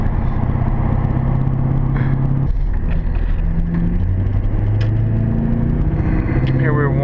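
Cabin drive in a truck with an LB7 Duramax diesel running at low RPM under light throttle, a steady deep rumble with shifting engine tones throughout, while a person talks over it.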